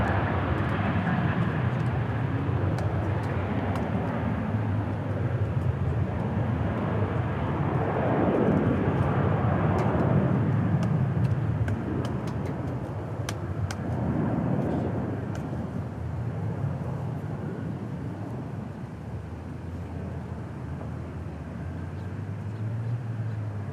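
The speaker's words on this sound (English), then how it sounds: "Viva taking off." A Viva airliner takes off at DFW Airport, its engines a steady broad roar that swells to a peak midway and then slowly recedes into the distance, loud and sustained throughout.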